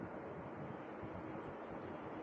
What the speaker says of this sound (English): how many cities can you go downtown and see waterfalls?